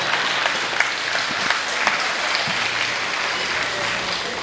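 Steady audience applause at an outdoor Hindi kavi sammelan poetry gathering under a pandal, a dense continuous patter of many hands clapping loudly throughout with faint crowd murmur.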